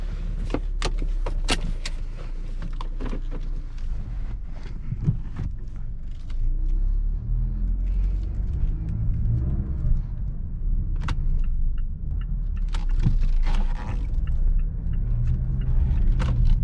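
Inside a 2017 Mazda CX-9 GLS, clicks and key jangles precede a low engine rumble as the SUV starts and pulls away, with the steady drone of driving, no talking.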